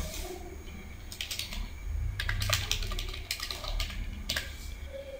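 Text being typed on a computer keyboard, irregular bursts of key clicks, near and moderately loud, over a low background hum.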